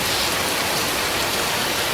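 Steady rain falls outdoors in a dense, even hiss of countless drops on surfaces, loud and continuous with no voices.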